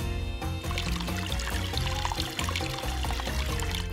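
Water pours and splashes steadily into a mini brick fountain craft, a continuous bubbly trickle close by with no voices.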